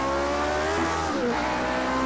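A Lotus 49 with its Cosworth engine races around the classic Spa circuit, its close, continuous engine tone dipping briefly and then climbing again as it accelerates hard.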